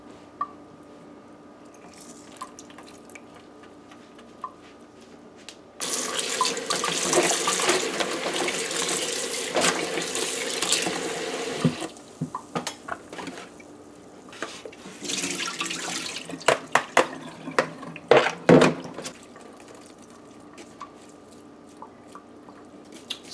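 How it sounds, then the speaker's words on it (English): Raw shrimp rinsed in a kitchen sink under running tap water, a quiet start giving way to loud splashing and gushing flow, with wet squishing and handling noises and scattered drips as the stream stops and restarts, no talking. "So once you've washed your shrimp now with the lime juice or lemon juice"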